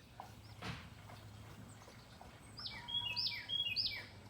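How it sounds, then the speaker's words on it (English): Several birds chirp and tweet outdoors beside a smoker during a backyard rib cook, with brief high calls growing busier near the end over a low steady hum. "Birds are chirping."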